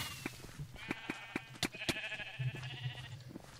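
Sheep bleating in the Minecraft video game, with several short, repeated blocky bleats and clicks scattered over a few seconds amid light game sounds.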